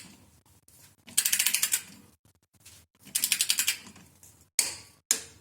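A torque wrench on a 17 mm hex key tightens the transmission plug to 35 Nm on a Volkswagen 02S gearbox. Two bursts of rapid, evenly spaced ratchet clicks come first, followed by two single sharp clicks close by.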